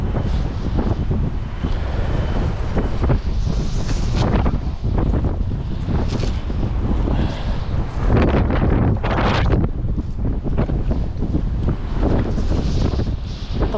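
Strong wind at sea buffets the microphone with loud rough gusts and roaring swells for the whole stretch, surging and easing in waves with no voices, heard from a fishing boat.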